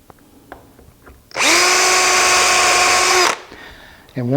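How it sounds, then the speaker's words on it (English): A power drill drives screws into the bottom of a pie safe: one close, loud, steady whine lasting about two seconds, rising at the start, with brief quieter handling noises before and after. "we're going to be screwing into the bottom of this."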